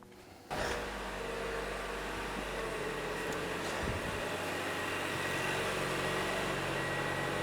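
A car engine cranks and catches during a test of its brushless fuel pump, then settles into a steady, even idle that holds close and constant to the end.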